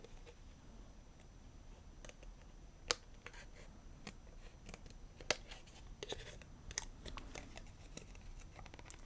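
Scissors piercing and snipping paper while making a scrapbook photo album, a scattered series of quiet clicks and small cuts with a couple of sharper snaps, close and isolated.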